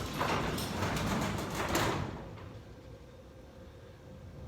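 A high-lift sectional garage door is lifted by hand, giving a loud, broad rolling rumble and rattle for about two seconds that then stops abruptly, leaving a quieter room tone with no talk.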